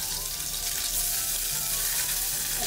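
Ginger, chili and burdock root frying in a pan over low heat, a dense continuous hiss and crackle of hot oil, close and fairly loud, with no talk.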